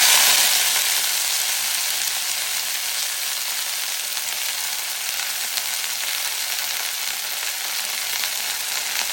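Vegetables frying in ghee and oil in a pan give a loud, continuous close hiss of sizzling with no breaks, steady throughout and free of speech.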